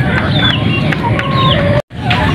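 Chickens cluck at a flooded backyard coop during heavy monsoon rains, a steady bed of bird calls with rooster-like notes, water and ambient noise beneath and a brief dropout near the end.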